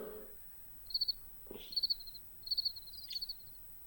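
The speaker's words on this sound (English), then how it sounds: "Crickets." Crickets chirp in short, repeated trilled bursts of about four pulses each, spaced roughly evenly over quiet night-like background, with a faint low sound at the start.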